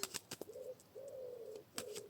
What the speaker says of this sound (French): on a un petit pigeon qui fait roux, roux, roux